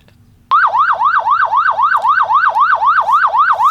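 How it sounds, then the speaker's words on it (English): A loud electronic alarm siren from a portable radio wails in a fast, repeating rising sweep, starting abruptly after a short quiet moment and continuing steadily. "It does have a really cool alarm feature on it."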